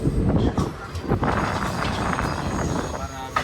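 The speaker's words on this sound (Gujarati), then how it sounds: "અત્યારે પાલનપુરથી ટ્રેન નીકળી ગઈ આબુ રોડ બાજુ" A train leaving Palanpur toward Abu Road, rumbling along with a steady rolling roar and faint wheel clatter, close and continuous, with no clear talk.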